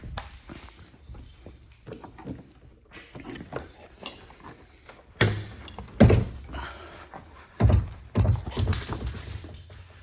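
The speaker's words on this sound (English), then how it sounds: "Dang dog, get down." A dog moving around near a parked car, with scuffling, thumps and jangling, a few sharp bumps and rustles in quiet surroundings, and no clear barking.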